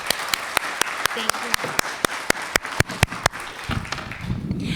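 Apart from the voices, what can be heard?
audience applause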